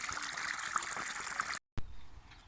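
Water flows strongly under pressure in a village hobby garden in the Aegean countryside, a steady hissing rush broken by a brief cut, then a quieter gurgling stream.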